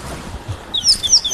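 A rattling cisticola, a small chatty bird perched atop a dead tree on safari, gives a few thin high chirps late in the moment over faint low outdoor background noise.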